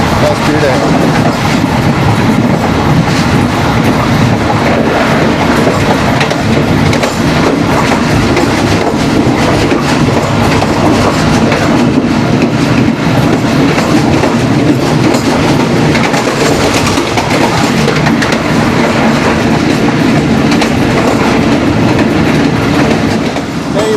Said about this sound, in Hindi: ये रेल गुजरात में आ रही है।